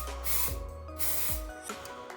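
Two short hissing bursts of Batiste dry shampoo aerosol are sprayed close up onto hair partings, over quiet background music.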